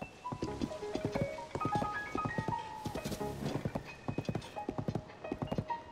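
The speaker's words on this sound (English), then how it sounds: "tame Ganondorf's horse." Ganondorf's horse in Zelda: Tears of the Kingdom gives steady clip-clop hoofbeats, with a neigh and a faint jingling melody over it, loud and close throughout.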